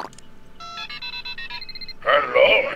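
A telephone rings in a cartoon adventure video game about a prank call, with a few short electronic tones followed by a burst of louder ringing and no speech.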